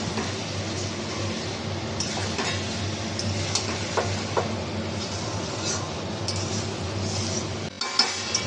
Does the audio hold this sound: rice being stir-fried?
yes